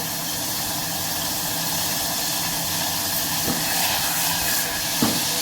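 Garlic, onion and mustard seeds sizzle steadily in hot oil as tempering for Telugu chinthakaya pappu, a continuous bright hiss with a couple of faint pops or knocks near the end, no talk.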